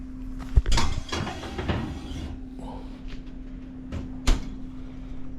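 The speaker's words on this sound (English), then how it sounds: "So let's get it into the oven." Clattering kitchen handling of a baking dish of stuffed karela (bitter melon) going into an oven, with two sharp knocks of the door and dish against a steady background hum, otherwise quiet.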